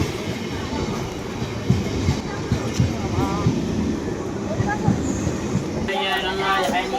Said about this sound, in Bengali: তো বন্ধুরা এবার ট্রেন চলে এসছে, ট্রেন আসছে।